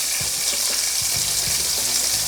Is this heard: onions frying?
yes